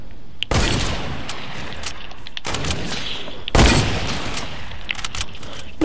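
Rapid gunfire from a first-person shooter video game, loud and close, in three sustained bursts separated by brief pauses.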